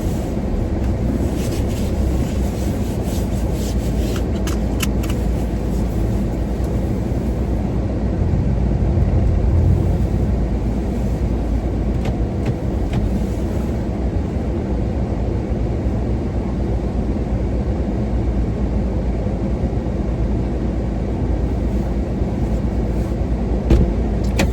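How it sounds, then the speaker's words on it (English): A car engine runs steadily throughout with low road rumble, sounding like a vehicle being driven on a winter outing, with no clear start-up moment and no talk. "I get the car started up again and we'll head to Hutch's"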